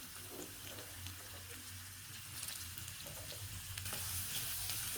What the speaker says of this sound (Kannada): ಚೆನ್ನಾಗಿ ಬ್ರೌನ್ ಆಗಿ ಫ್ರೈ ಮಾಡ್ಕೋಬೇಕು.